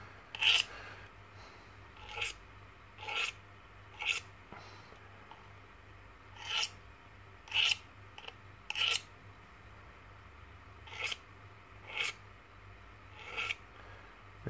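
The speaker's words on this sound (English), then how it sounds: "This is still using the big 12 inch file, which is definitely all you need." A big 12-inch file rasps across a steel broadhead in about a dozen separate short strokes, each a crisp scraping burst, close up and fairly quiet, with brief pauses between them.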